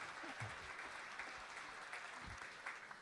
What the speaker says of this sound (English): let me hear some cheering right now for this young man, for what he's doing here